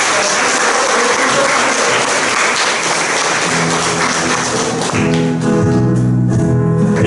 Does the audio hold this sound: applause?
yes